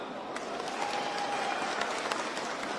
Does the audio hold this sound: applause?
yes